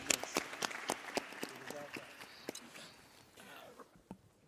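Audience applause at a trade fair session, scattered sharp claps that are strongest at first, then thin out and fade toward the end, with some voices in the background.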